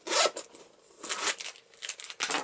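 A zipper on a Wizard of Oz Loungefly backpack is pulled in several short quick strokes, close and crisp, with brief pauses between pulls and no talking.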